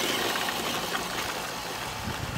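An Axial Ram Power Wagon scale R/C truck driving, its small electric motor giving a continuous buzzing whine with gritty rolling noise, steady and fairly close throughout.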